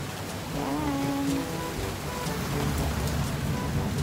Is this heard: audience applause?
no